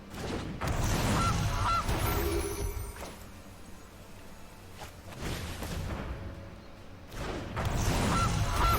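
Geese honk in MTG Arena, in loud, dense bursts of cackling that come in three waves separated by quieter gaps, with a booming, thumping layer underneath.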